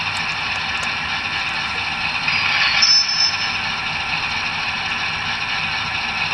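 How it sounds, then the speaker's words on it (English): An N scale GE AC6000CW model locomotive's sound system plays a brake effect: a steady mechanical hum with one brief, thin, high squeal near the middle. "And then 28 is brake squeal, which we'll play here."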